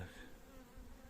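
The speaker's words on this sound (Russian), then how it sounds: "тут пчелы какие-то агрессивные" Honey bees at an apiary hive produce a steady, close, continuous buzzing drone that lasts the whole brief moment.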